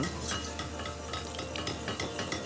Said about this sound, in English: So just go slowly, keep whisking because you don't want any lumps.